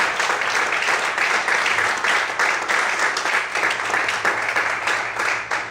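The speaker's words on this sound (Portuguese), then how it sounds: "Aplauda o Senhor em forte." A church congregation claps vigorously and continuously, many hands blending into a dense, even roar with a low sustained tone faintly underneath and no talking.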